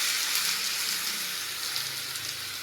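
Thalipeeth flatbread sizzling steadily on a hot oiled griddle, a continuous close crackling hiss with no voices.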